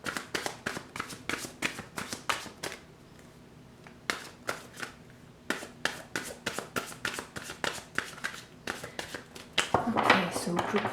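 A deck of tarot cards is riffled and shuffled by hand at close range, a run of rapid crisp flutters broken by short pauses, with some handling noise at the end.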